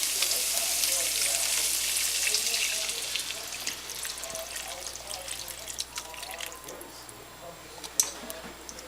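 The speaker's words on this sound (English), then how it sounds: "All is 2 cups beef stock you add to your ground beef." Ground beef in a pan for shepherd's pie gives a loud, steady sizzle and bubbling as two cups of beef stock go in, the sizzle settling and easing after a few seconds, with a sharp clink near the end.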